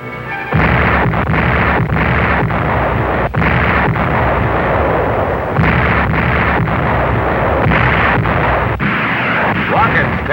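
Naval destroyers' guns bombard the shore ahead of a 1950 Korean War amphibious landing, heard as a loud, dense barrage of heavy booms and blasts repeating about every second without a break for ten seconds.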